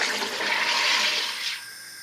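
A SodaStream carbonates juice with a loud, broad fizzing hiss that swells for over a second and then drops to a softer steady hiss, close by with no talking.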